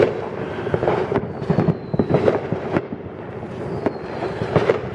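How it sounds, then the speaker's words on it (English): Fireworks set off by a neighbor on a July night in a residential area, several explosions and crackling pops going off at irregular intervals, a mix of nearer bangs and more distant booms with a steady background hum. "I'd be lucky to hear my neighbor up the road blowing some fireworks off."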